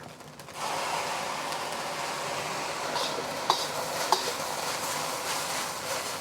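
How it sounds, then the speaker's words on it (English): Egg fried rice with soy sauce is stir-fried in a pan, giving a steady, close sizzle with continuous scraping and stirring and a couple of sharp utensil taps against the pan. "I just want to stir fry this until the rice is kind of evenly brown by the color of the soy sauce"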